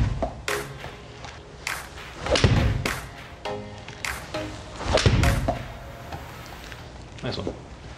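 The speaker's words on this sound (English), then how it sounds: "let's hit three or four shots with your 7-iron and take a look." Golf shots with a 7-iron at a club fitting session with a launch monitor, several sharp impacts ringing out close by at irregular intervals, with low indoor rumble and brief talk between swings.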